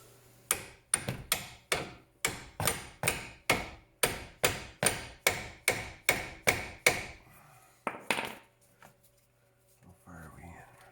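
A hammer strikes a chisel against a Mazda 3 control arm in a steady series of about sixteen sharp, loud metallic blows, followed by a couple of lighter taps and brief talk.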